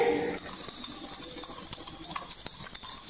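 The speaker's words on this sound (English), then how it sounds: "Yay, correct, that's the sound of coins." Coins dropping and jingling in a run of small metallic clinks and light patter at steady, fairly close volume, with no voices.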